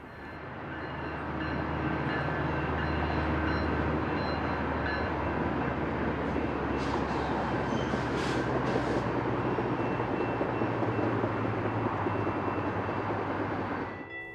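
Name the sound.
westbound commuter train passing Valley Boulevard in Colton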